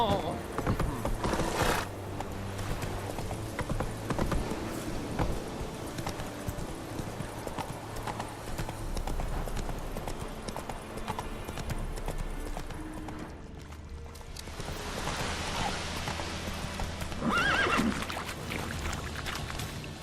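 Horse hooves clip-clop steadily on a ground surface while riding in the video game Witcher 3, with a neigh near the end and other game sounds mixed in throughout.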